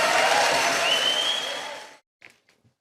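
Sellout crowd of mainly small business people in Perth applauding and cheering for Pauline Hanson, a dense sustained roar of clapping and whoops that cuts off abruptly, followed by a few faint scattered sounds.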